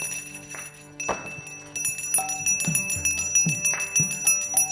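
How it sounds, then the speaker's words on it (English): Bells ringing at a Hindu devotional chant gathering, with bright sustained metallic tones and repeated struck clangs in an irregular rhythm, fairly close and prominent. "And the bells. And loudly, please."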